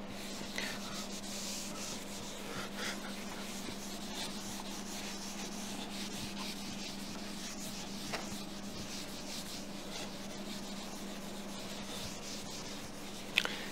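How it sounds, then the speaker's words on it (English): An eraser rubs out marks with a continuous soft, scratchy friction sound, close and faint, with a couple of small taps. "So so I'm erasing this"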